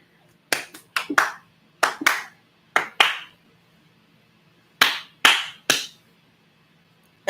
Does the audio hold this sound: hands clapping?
yes